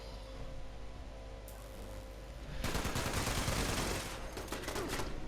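An automated turret fires in Fallout 76, starting as a faint mechanical hum and breaking into a loud, sustained rattling burst of rapid gunfire that continues to the end.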